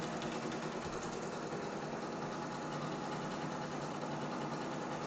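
A computerized embroidery machine stitches the outer ring of a nativity tree skirt, giving a steady, continuous mechanical whir and rapid needle chatter. It runs at an even level from start to finish, with no voices over it.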